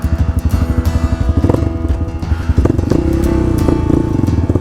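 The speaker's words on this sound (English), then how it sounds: "it got enough charge to fire it up with electric start" A Tao Tao TBR7 dual sport motorcycle engine is fired up with the electric start, cranking with clattering pulses before catching into a steady, close idle, loud and alone.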